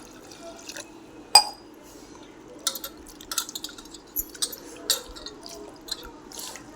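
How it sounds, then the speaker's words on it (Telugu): Two glasses of water poured into the pepper rasam mixture and squeezed and mixed by hand, giving soft, close liquid splashes and squelches with a sharp clink near the start. "వాటర్ టూ గ్లాసెస్ వాటర్ అయితే వేస్తున్నాను ఫ్రెండ్స్ దీన్ని మెత్తగా చేతితో అయితే కలుపుకోవాలి"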